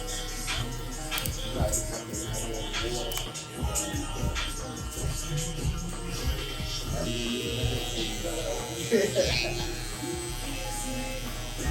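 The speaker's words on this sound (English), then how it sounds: "So I'll do my clipper work mostly around it." Electric hair clippers buzz in short bursts while cutting a low fade on thick, tough hair, and a person talks over the steady hum.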